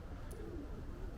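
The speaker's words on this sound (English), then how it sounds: "Pigeons." Pigeons cooing near a graveyard wall lined with old headstones, a soft low murmuring coo under steady outdoor background noise, faint and somewhat distant, with no talk over it.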